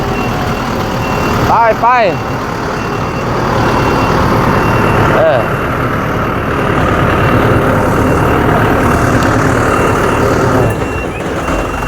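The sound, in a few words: truck delivering and dumping sand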